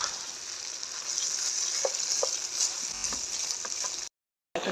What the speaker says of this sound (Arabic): نشوح فيه شويه